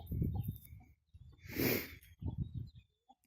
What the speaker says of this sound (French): la poule de la ferme de Beaumont, la nègre de soie